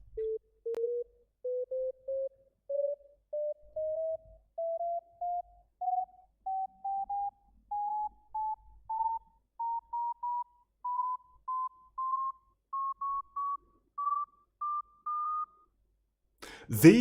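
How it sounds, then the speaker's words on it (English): A long series of short electronic beeps, evenly spaced and steadily rising in pitch, with a brief burst of noise at the very end. "let's see if the actual click on the consequent overlapping beeps has been fixed"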